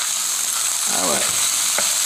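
Bagged cauliflower rice sizzles loudly in a hot pan, a steady bright frying hiss throughout with a brief stirring scrape midway and a short clink near the end.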